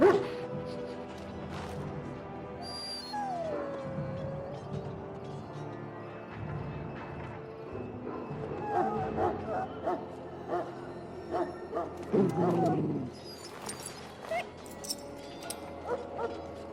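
A dog in the video game Dragon Age: Origins whimpers and lets out several yips and barks, first scattered and then in a louder cluster near the end, over quiet game ambience with some speech.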